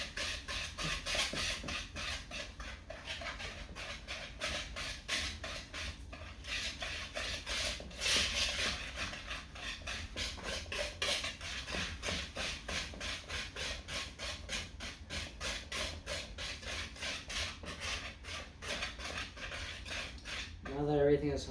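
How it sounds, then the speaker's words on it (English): Eggs and other ingredients for pumpkin bread are whisked together in a bowl, giving a steady, rapid metallic scraping and clinking that continues without pause at moderate volume. "we're going to go ahead and whisk that together"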